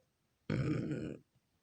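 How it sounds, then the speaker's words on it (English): A single loud, close burp from an adult, lasting under a second and standing out alone against a quiet room. "I need to burp."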